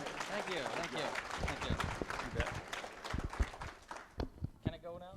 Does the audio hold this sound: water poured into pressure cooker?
no